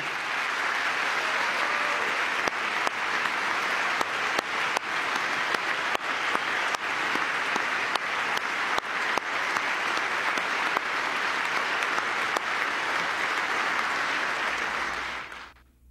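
Sustained, thunderous audience applause in a large hall during a presidential speech, a dense unbroken wall of clapping lasting about fifteen seconds before cutting off abruptly.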